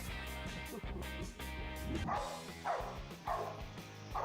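A dog barks at a goat in a quick run of repeated yapping barks, fairly close, over a steady tonal background bed.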